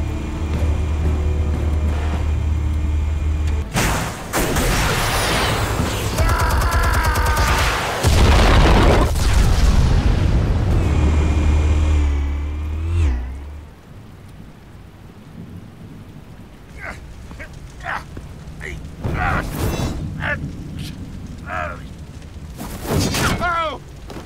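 Explosives detonating in a video game, heavy booming blasts with a long rolling rumble that dies into scattered debris crackles and thuds, with voices talking before and after.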